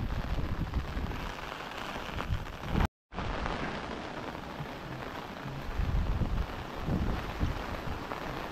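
Heavy monsoon rain pours down in Konkan with strong gusting wind buffeting the microphone, a dense continuous roar broken by one brief silent gap.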